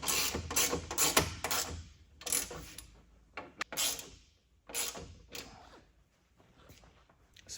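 A ratchet tightens bumper brackets on a 2025 RAM truck during a hidden winch mount install, giving short, close bursts of quick clicking separated by brief pauses, fairly quiet overall.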